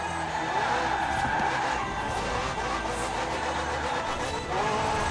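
Racing through Forza Horizon 4 in a McLaren with a twin-turbo V8 and electric assist: a steady, loud engine roar with tire skidding and squeal running continuously, no talking.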